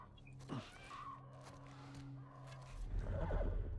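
A horse in the game The Last of Us Part I whinnies in a drawn-out, wavering neigh, moderately close, followed by a snort and shuffling as the animal stirs.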